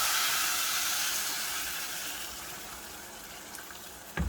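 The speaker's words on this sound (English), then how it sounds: "And we add boiled hot water." Boiled hot water pours into a pot of seasoned beef and rice for Ghanaian angwamo, a steady gushing hiss that slowly tapers off, ending with a brief clatter.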